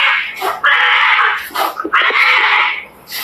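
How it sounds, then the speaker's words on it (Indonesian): Two bursts of harsh, high-pitched yowling and screeching, like cats squabbling, loud and close with a brief pause between them. "kucing berantem"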